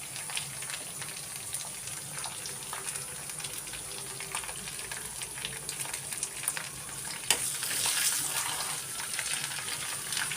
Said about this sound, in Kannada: ಇಂಗು ಮತ್ತು ಅರಿಶಿಣವನ್ನು ಕೂಡ ಸೇರಿಸ್ಕೊಂಡೆ ನಾನು ಮಿಕ್ಸ್ ಮಾಡ್ತೀನಿ